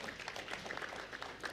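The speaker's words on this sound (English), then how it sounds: "May we please give a round of claps for Mr." Conference audience at a business and economic development event applauding a keynote speaker, a faint, even wash of clapping from a hall heard at a distance.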